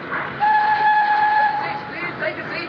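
A train sounds a sustained two-tone whistle at a railway station platform, one long blast near and fairly loud over a rumbling, busy station background.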